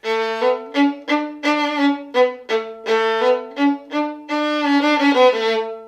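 A violin played without a mute plays a bright, full melody of separate bowed notes, loud and resonant, with rich overtones and no talking.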